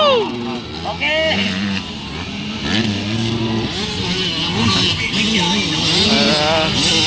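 A pack of 85cc motorcycles races in a first heat, engines buzzing and revving in overlapping rising and falling notes, close and loud, with a commentator talking excitedly throughout.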